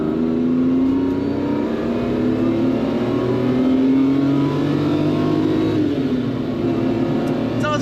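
Lamborghini LM002 truck with a V12 engine, exhaust droning and revving steadily while driving, pitch rising and falling smoothly under a continuous loud engine note.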